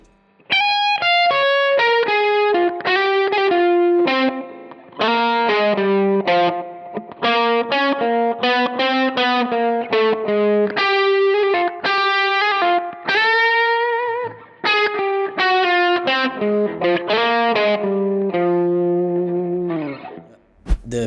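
A saxophone lick is played on distorted electric guitar with straight alternate picking: quick runs of clearly separate notes in several bursts with brief pauses, loud and close, with no talk.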